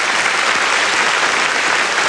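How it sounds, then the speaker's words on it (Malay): Applause from a studio audience at a Hari Raya television show in Singapore, a loud, dense and steady roar of many hands clapping with no talk. "Berikan tepuk tangan untuk Isyak Ahmad"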